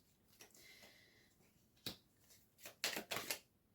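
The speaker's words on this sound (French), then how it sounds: "je vais déposer les cartes" Tarot-style cards being set down one after another for a reading: soft close slaps and shuffling clicks, a few louder near taps bunched toward the end, with no talking.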